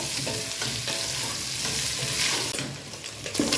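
A spiced meat mixture fries in a pan with a loud, continuous sizzle while it is stirred. Scraping and stirring movements come through close up.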